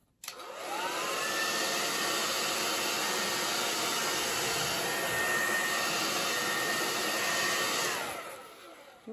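Hair dryer blowing on a watercolor landscape painting to dry the wash, a loud steady whoosh with a rising pitch as it spins up and a falling pitch as it shuts off, running alone for about seven seconds.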